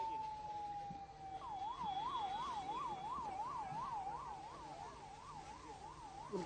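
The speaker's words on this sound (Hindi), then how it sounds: "ये अब आपको दिखा दें कि एम्बुलेंस बच्चों को यहाँ से" An ambulance siren wails after an IED blast in Rajouri, starting with a falling tone and then settling into a steady, rapid up-and-down yelp. It stays loud and close over street rumble, with no talk.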